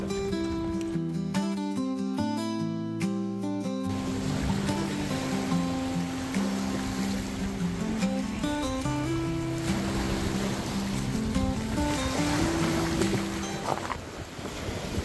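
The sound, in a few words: water waves washing in at the shore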